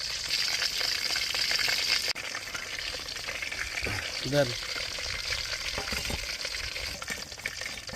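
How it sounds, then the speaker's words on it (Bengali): Chicken pieces fry KFC-style in hot oil with a constant loud sizzle. A brief clatter and stir come partway through, and no one speaks. "কেপসির মতো চিকেন ফ্রাই করছি"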